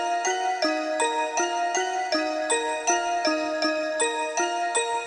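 The same simple EDM trap synth melody played an octave lower, now a fuller plucky lead. Its notes repeat evenly in a short looping phrase, with no voice over it.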